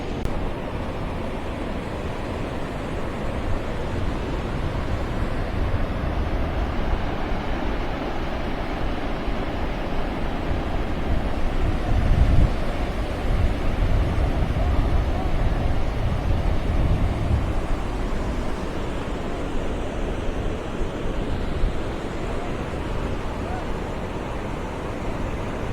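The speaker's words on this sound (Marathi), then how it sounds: "हवा आता येते ना, हा समुद्राच्या साईडून इकडे बाहेरच्या साईडला हवा आहे." Steady sea breeze and surf at Versova beach at night, a continuous broad rush of wind and waves that swells slightly mid-way, with wind buffeting the microphone throughout.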